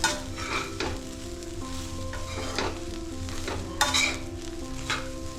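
Tomato and fried onion masala is stirred and scraped in a sizzling pan, the steady frying hiss broken by a few louder spoon scrapes close to the mic.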